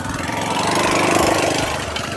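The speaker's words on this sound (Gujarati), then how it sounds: "જો મિત્રો ખોલી હવે બાઈક આવ્યું હવે" A motorbike engine runs steadily and fairly loud near a rain-flooded farm field, a constant rough drone holding through the whole stretch with no talk.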